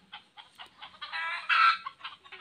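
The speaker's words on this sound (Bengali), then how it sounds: "এই পাখিটা দেখে মুরগিগুলো ডাক দিচ্ছে" Village chickens give a rapid run of loud, strained alarm clucks and squawks at a bird of prey overhead, rising into a harsh drawn-out cackle near the middle, close and alone.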